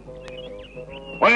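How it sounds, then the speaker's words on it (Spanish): Birds chirp and quack in a 1970s Fred Basset cartoon, with a short high whistle and thin calls over a faint hum, then a sudden louder burst at the end. "Son los pájaros. No me dejan dormir."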